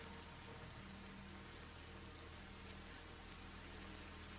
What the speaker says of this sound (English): What do we think about those raindrops? Tippity tap, tippity tap.